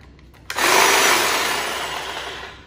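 A DeWalt 22-inch cordless hedge trimmer starts abruptly and runs with a loud, steady buzzing whir that holds for about two seconds and fades slightly, close by with no talking.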